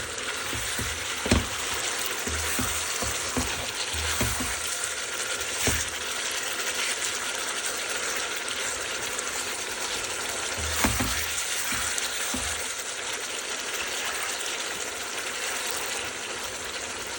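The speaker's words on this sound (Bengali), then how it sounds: "একটু মাংসটা ভালো করে কষাই নেবেন, ভালো করে কষাই নিলে কি টেস্ট ভালো আসে" Chicken meat sautés in a pan with a steady, loud sizzle and crackle throughout, broken by occasional sharp clinks of a utensil against the pan.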